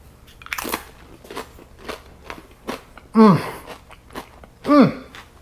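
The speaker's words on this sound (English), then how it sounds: "It's creamy, and with the crunch of these crackers, so good." Close crunching of crackers dipped in homemade hummus: several crisp bites and chews spaced out over a few seconds, with two louder, crackly bites accompanied by short voiced murmurs.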